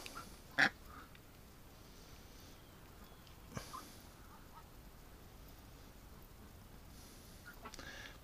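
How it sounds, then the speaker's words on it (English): A single sharp duck quack stands out near the start, with a softer second call a few seconds later, over quiet background. "Relax, little duck."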